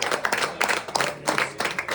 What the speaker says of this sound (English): I think a big round of applause should go to you.